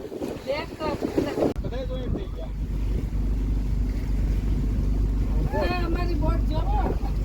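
Wind buffets the microphone over a steady low rumble of a shikara boat moving through water, with voices talking intermittently on board.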